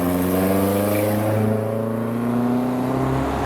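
A modified turbocharged car pulls away from a car show, its loud engine revving hard and rising steadily in pitch as it accelerates close by, with a whirring turbo underneath and no talk.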